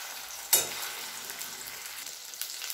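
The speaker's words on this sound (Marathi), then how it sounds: "त्यामध्ये तेल टाकायचं, तेलामध्ये आता हे जे वाटण बनवलेलं ते टाकायचं." A ground spice paste dropped into hot oil, a sudden loud splattering hiss that settles into a steady sizzle with small pops and stirring scrapes.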